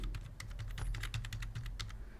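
Personal details are typed on a computer keyboard as quick, irregular runs of light clicking keystrokes. The taps sound close and fairly quiet, with no voices.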